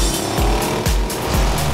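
A cartoon monster truck brakes with loud, repeated tire squeals over a roaring engine, close and continuous, in about three rising-and-falling screeches.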